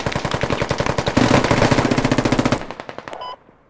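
Automatic gunfire in a first-person shooter game rattles in fast, loud, evenly spaced bursts, one long stream followed by a brief tapering string of shots and a clipped ending.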